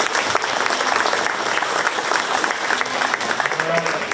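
A county fair crowd applauds the 4-H and FFA market beef exhibitors, continuous clapping with faint voices and livestock-show murmur mixed beneath.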